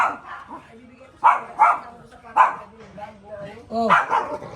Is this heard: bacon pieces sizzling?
no